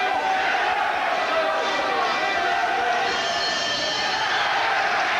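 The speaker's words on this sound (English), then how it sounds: "The crowd like that one." A boxing crowd at a Shea Neary vs Naas Scheepers fight roars and cheers steadily throughout, a dense, continuous wash of many voices filling the arena at a loud, even level.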